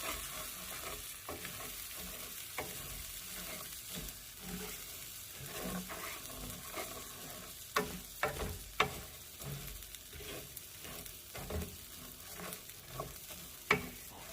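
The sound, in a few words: toasting rice in a pan over medium heat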